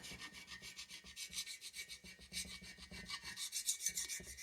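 Hand scraping rough residue and old gasket material off a Kohler Courage engine head from a Cub Cadet LTX 1045 mower, a steady rhythmic rasping of close back-and-forth strokes with no talking.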